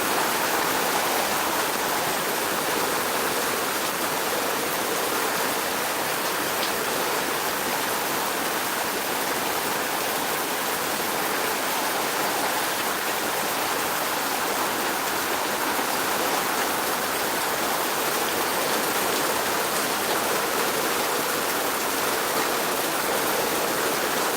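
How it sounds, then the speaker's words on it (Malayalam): Heavy March rain pours steadily, a dense continuous broadband hiss with no breaks, close and loud throughout with no voices. "നല്ലൊരു കാലാവസ്ഥ മഴ പക്ഷെ ഒരു രക്ഷയില്ല കേട്ടോ"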